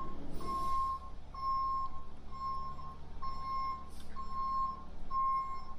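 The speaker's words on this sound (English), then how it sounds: "We're backing in the second truck now." A concrete truck backs up at a garage floor pour, its backup alarm sounding steady evenly spaced beeps over a low diesel engine rumble that runs throughout.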